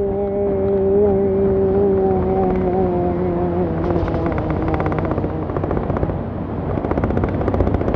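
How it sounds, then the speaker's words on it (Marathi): Truck tyres roaring on a highway, a loud close droning hum with a falling engine-like tone that shifts into a rough rumbling, fluttering drone as the heavy vehicle passes, heard from a moving motorbike. "ट्रकच्या टायरचा कसा आवाज येतो हायवेवरती."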